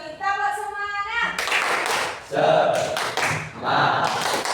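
Schoolchildren in an Indonesian classroom perform the 'tepuk semangat' clap chant, a burst of rhythmic group hand clapping mixed with chanting voices, loud and close, following a teacher's sung prompt.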